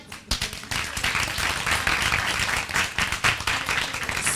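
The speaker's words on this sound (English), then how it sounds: "Please just give a round of applause for the team." An in-person workshop audience claps for a team, starting with a few sharp claps and swelling into steady applause from a modest crowd, close and fairly loud.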